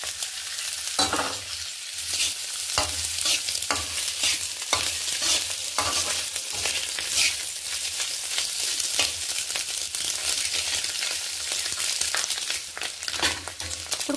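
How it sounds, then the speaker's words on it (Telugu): Egg and vegetables stir-frying in a pan for home-made egg fried rice, with a steady loud sizzle throughout and repeated spatula scrapes and stirs; no voices. "ఎగ్ కూడా యాడ్ చేసేసుకున్నాం."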